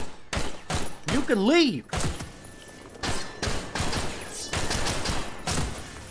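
Gunfire rings out in Half-Life 2 MMod as enemies are shot, a run of sharp bursts spread across several seconds. A voice shouts between shots, and a warbling electronic tone rises and falls early on.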